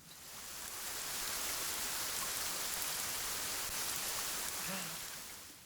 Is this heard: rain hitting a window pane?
yes